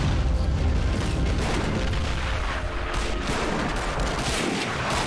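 Distant toy-soldier gunfire from the strategy game Army Men of War, a dense crackling fusillade of small arms and booms rolling steadily across a trench battle, with no one speaking.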